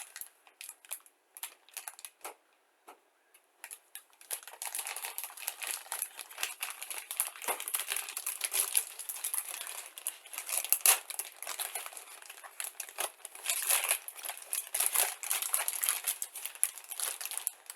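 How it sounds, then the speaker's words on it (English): Crisp crinkling and rustling of a sturdy plastic bag from a model truck kit, sparse at first, then continuous and busy, close up with no talking. "Good sturdy plastic bag in here."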